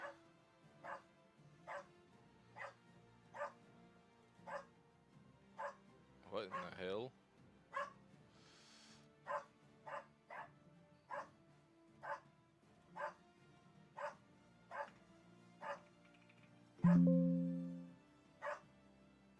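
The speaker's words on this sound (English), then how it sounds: "Uh-oh, Dougie bark" A small dog named Dougie barks repeatedly at a steady rhythm, sharp yips roughly every second, heard at a distance behind a PC-building session, with a brief voice partway through and a louder thump near the end.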